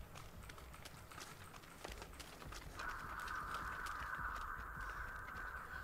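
Crows cawing in the video game Dead by Daylight: faint, distant harsh caws over a low rumbling game ambience, joined midway by a steady high whirring tone, with a quiet voice speaking briefly.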